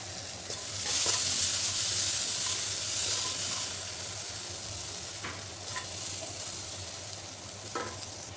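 A continuous sizzling hiss of cluster beans steaming in a hot pan over low flame, with a few brief scrapes of stirring.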